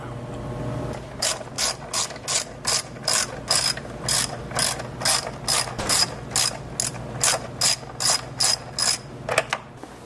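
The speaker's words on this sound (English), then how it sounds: "you got a bolt holding the battery down. Got to remove that." Ratchet wrench removing the battery hold-down bolt on a Mercedes CLA/GLA, a fast series of about fifteen crisp, evenly spaced clicking bursts, close and clear with no talking.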